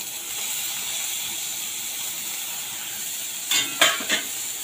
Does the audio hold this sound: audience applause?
no